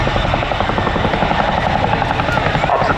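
A Royal Air Force Boeing Chinook twin-rotor helicopter hovering at an air show, with a loud, steady, heavy rotor throb and turbine roar filling the air; a commentator's voice sits under the noise.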